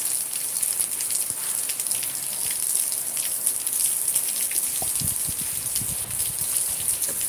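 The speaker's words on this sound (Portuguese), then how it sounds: "Chuva grossa." Heavy rain pours steadily in Cape Verde, a dense continuous hiss with scattered heavier drops and splashes close by, with no voices.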